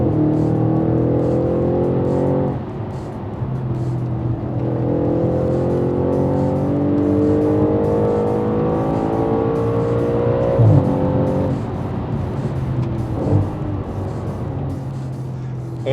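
Audi RS5 with a naturally aspirated 4.2-litre V8 revving and pulling through rising gear sweeps, loud and continuous, with a brief sharper burst near the middle.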